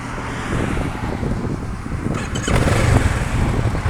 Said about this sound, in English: hear that little backfire thing?